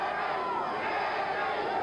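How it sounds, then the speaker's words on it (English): A boxing crowd at the Ken Norton vs Jimmy Young fight chants Jimmy Young's name, a dense roar of many voices that stays steady and moderately loud throughout. "There's a segment of the crowd here that keeps chanting, Jimmy Young, Jimmy Young."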